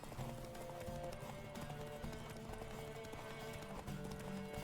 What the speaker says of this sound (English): I wonder if I should stop it all and let Roach regain? He's going, baby, go